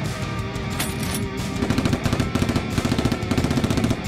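Nerf toy guns firing in a staged action fight, heard as rapid repeated bursts of sharp pops in quick rhythmic clusters over a dense, noisy background.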